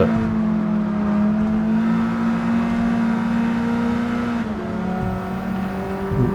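Pickup truck engines in a Gran Turismo 7 race hold a loud, sustained, buzzing drone that stays near and steady throughout, with a slight pitch shift late on and no voices.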